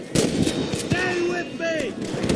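Gunfire from a Red Dead Redemption shootout with rustlers: loud, close shots crack in a quick, irregular burst alongside voices.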